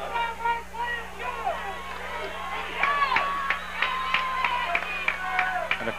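A high school football crowd cheers and claps to fire up the Rosewood Eagles, distant mixed shouting with scattered sharp claps, sitting under a commentator's voice.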